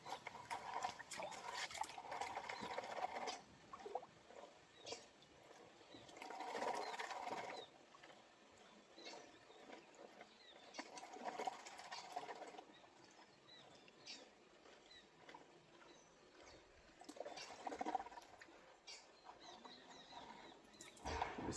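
Gold panning in a shallow bit of water among rocks. Gravel and water swirl and slosh in a pan in repeated waves of soft rattling and splashing, quiet and close, with pauses between the swirls.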